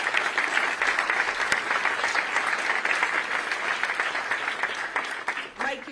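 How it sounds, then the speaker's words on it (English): Sustained, dense applause from a crowd honouring the staff at a Portland Thorns event introducing new ownership, steady and loud throughout before tapering at the end. "let's give a round of applause for our staff, please."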